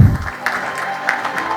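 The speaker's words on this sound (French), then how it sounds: "Applaudissez-le." Audience applause at a closing ceremony, a short burst of steady clapping from a crowd in a hall, moderately loud and continuing throughout.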